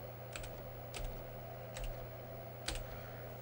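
Keys being typed at a computer terminal, a few sparse, sharp clicks spaced about a second apart over a steady low electrical hum.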